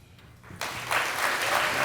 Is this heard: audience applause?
yes